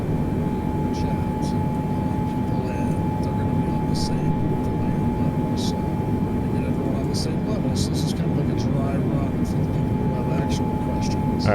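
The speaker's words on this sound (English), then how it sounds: "Some people are saying the plane is really loud." Airliner engine noise inside the passenger cabin: a steady, loud broadband roar with a constant tone running throughout, as on a commercial flight.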